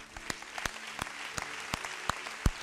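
Evenly spaced hand claps beat out a steady rhythm, about eight sharp claps in under three seconds over a faint, constant background hum.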